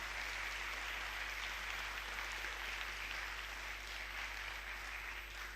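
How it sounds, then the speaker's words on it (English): An audience at a climate change and oceans lecture applauds a guest of honor, a steady, even wash of clapping that holds throughout without pause, fairly faint and diffuse as if heard from across a hall. "Please give him a big applause."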